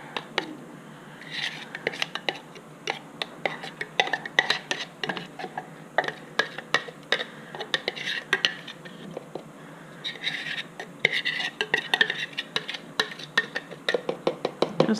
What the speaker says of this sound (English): scrape all these ingredients in here